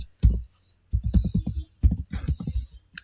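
A few quick bursts of keystrokes on a computer keyboard, clustered clicks in three short runs with pauses between, close and fairly loud, no voices.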